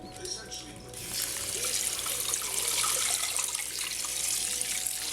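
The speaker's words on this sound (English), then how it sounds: "drain the noodles and rinse them off with some cold water" Cold tap water gushes steadily into a sink to rinse drained noodles, a bright splashing rush that starts after a brief quieter moment and continues, with a voice talking faintly underneath.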